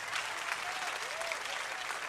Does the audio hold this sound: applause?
yes